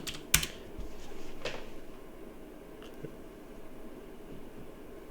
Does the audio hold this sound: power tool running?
no